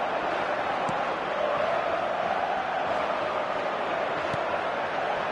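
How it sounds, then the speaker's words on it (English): A stadium crowd roars in a PlayStation football game, a broad, steady wash of massed voices that holds at an even level throughout, with a couple of faint sharp ticks. "the crowd are reacting to that now"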